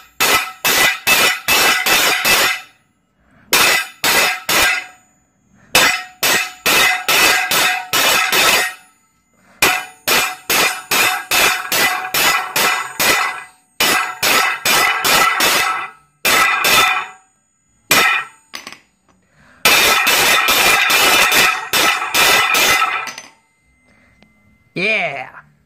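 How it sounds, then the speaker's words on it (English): Loud, rapid hammer blows ring on metal in quick bursts, separated by short pauses, the clanging strikes close and sharp. "let me hammer down this metal."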